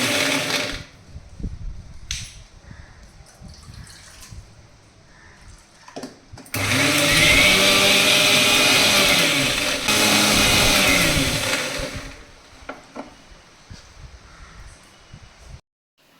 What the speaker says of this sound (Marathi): आता ते मी मिक्सरच्या भांड्यातून बारीक वाटून घेते